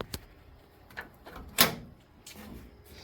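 A door on a 1964 Chevrolet Impala with newly installed seal and latch is worked open, giving a few soft clicks and one sharp latch clunk near the middle, close and fairly quiet.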